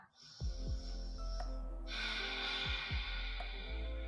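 Two long, steady breaths, an inhale then a deeper exhale, drawn during a vinyasa flow yoga pose for the splits, close and clear over soft low background music.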